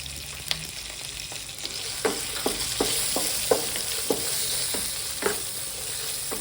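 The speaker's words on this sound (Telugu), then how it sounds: "ఇవన్నీ మంచిగా ఫ్రై కావాలి" Onion and turmeric fry with a steady, close sizzle in a pan, punctuated by a regular series of sharp clicks as a spoon stirs and scrapes.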